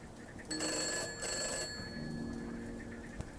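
A telephone bell rings in the horror video game Gray Dawn: two loud, bright ringing bursts in quick succession, each about half a second long, followed by quieter background tones.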